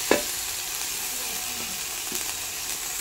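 Food sizzles and fries steadily in an iron wok over a wood-fired clay stove, a broad continuous hiss with a sharp clank near the start and a few soft utensil knocks.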